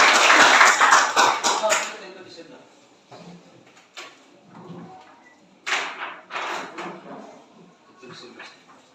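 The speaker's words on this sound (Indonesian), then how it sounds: "Tepuk tangan semuanya." A classroom of students claps together in a dense burst of applause lasting about two seconds, then a second, shorter round of clapping follows after a pause filled with quieter room sounds and talk.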